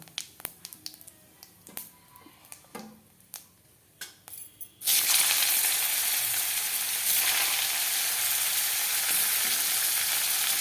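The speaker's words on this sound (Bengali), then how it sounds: "আমি এখন ফুলকপি আর আলুটা ভেজে নিব" A few sharp metallic taps and clinks come first, then cauliflower and potato hit hot oil in a pan with a sudden loud sizzle that keeps going steadily to the end, close by and without voices.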